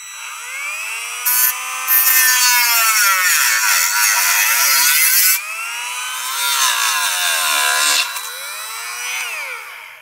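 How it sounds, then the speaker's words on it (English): A power tool cuts slowly through a plastic part for a Yamaha Banshee restoration, giving a loud continuous high-pitched whine that rises and falls as the cut loads and eases. "that's the best way to cut plastic I've found."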